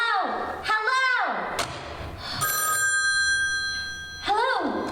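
An old telephone bell rings in a radio drama, sounding in repeated bursts between thuds and other sound effects, moderately loud with a busy background.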